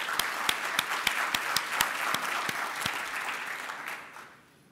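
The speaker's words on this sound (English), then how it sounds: "So I'd actually like to suggest we give him a round of applause for his contribution." A conference audience at a SIGGRAPH talk claps in a moderate hall, with individual crisp claps standing out over a bed of applause. The clapping stays fairly quiet and tapers off over a few seconds.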